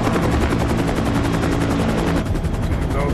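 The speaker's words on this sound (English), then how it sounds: "Let's get to the chopper." A helicopter in an action-film escape scene gives a loud, close, rapid rotor chop that beats steadily throughout, with a harsh roar that may carry gunfire.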